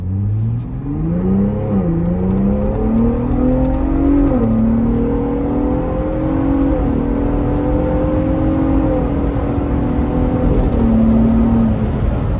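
A 2025 Ford Bronco Raptor SUV engine revs up steadily in sport mode from inside the cabin, pitch climbing through smooth gear shifts, loud and continuous with no talking.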